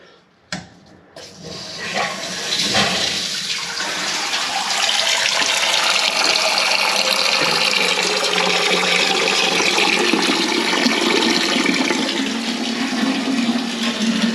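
After a click, water rushes steadily into a toilet tank, a loud continuous hiss and gurgle that keeps going without pause.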